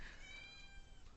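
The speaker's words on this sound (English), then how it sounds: "That is my cat." A domestic cat gives a single short meow, close but quiet, against a low background hum with no speech.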